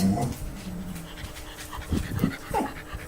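A dog pants and sniffs close by in short, quick breaths, with no one talking.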